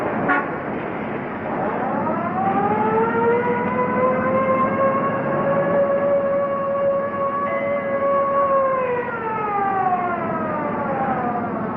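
A siren wails steadily, its tone rising and holding in long sustained sweeps, loud and fairly close, with traffic rumble beneath.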